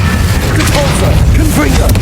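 An Incendio fire spell bursting in Hogwarts Legacy, a loud booming whoosh over dense combat noise, with voices underneath.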